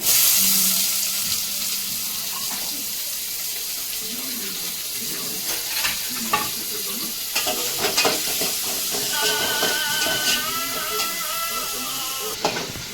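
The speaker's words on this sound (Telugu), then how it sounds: "నూనె బాగా వేడెక్కింది ఇప్పుడైతే ఉల్లిపాయలు పచ్చిమిరకాయలు అయితే కోసుకొని పెట్టుకున్నా అవి అయితే ఫ్రై చేసుకోవాలి" Onions and green chillies fry in hot oil with a steady sizzle, broken by clinks and scrapes of stirring and handling; a voice briefly hums or speaks at moments over the cooking sounds.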